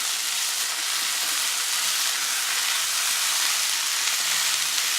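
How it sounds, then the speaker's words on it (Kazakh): Meat, onion and carrots sizzle in a pan for rice kozhe, a continuous, even, hissing fry with no voices over it. "Енді қуырылып жатқан ет пен пияздың үстіне сәбізді салып тағы да қуырамыз."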